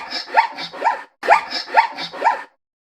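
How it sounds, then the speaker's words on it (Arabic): A zebra gives two bursts of sharp, barking yelps, each burst made of about four quick, rising calls, loud and close with a short gap between the bursts. "zebra"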